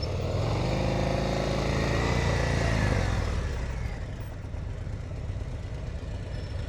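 A motorcycle engine idles and putters during slow-speed riding practice with clutch work, a moderate rumble that swells slightly and then settles lower and fainter.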